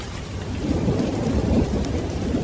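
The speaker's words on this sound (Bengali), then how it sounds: "আকাশে কালো মেঘ, চারিপাশে বিদ্যুৎ চমকাচ্ছে, সঙ্গে ঝোড়ো হাওয়া আর টিপটিপ বৃষ্টি।" Thunderstorm with steady heavy rain and gusty wind, thunder rumbling continuously through a dense, loud wash of rainfall; no voices.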